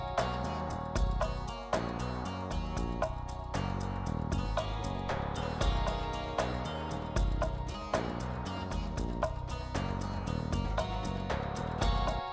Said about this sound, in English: I have a jam loaded up into Ableton here. It sounds something like this.